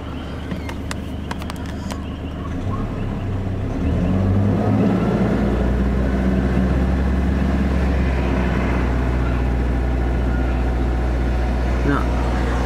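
A car engine on a chilly day is revved to around 1800 RPM, a low rumble rising and holding steady with a faint turbo whine above it, and a voice talks over the engine throughout.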